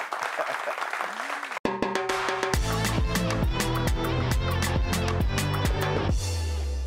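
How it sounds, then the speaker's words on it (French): A talk-show studio audience claps for the guests, a short burst of applause under a host's voice before loud rhythmic music with a steady beat takes over. "On les applaudit très fort."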